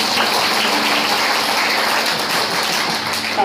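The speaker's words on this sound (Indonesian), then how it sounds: "Yang percaya tepuk tangannya." A church congregation claps together in a dense, steady patter of applause that holds evenly throughout without any talking.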